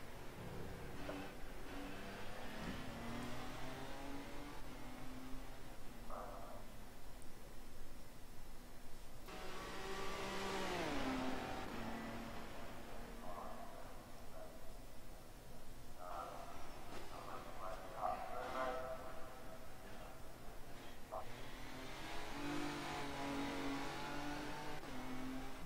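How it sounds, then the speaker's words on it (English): LMP2 prototype race cars rev and accelerate in the rFactor 2 sim racing game during a World Endurance Championship broadcast, with rising and falling engine pitches that sweep by repeatedly at a moderate, somewhat distant level. "Alright, looks like one of the LMP2s coming out back on the track now."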